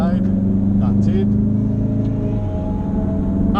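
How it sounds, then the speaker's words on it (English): An engine rumbles and drones continuously on the Nordschleife at the Nürburgring as a Renault Clio closes in from behind, with someone talking over the steady motor noise. "There is a Clio that is coming from behind."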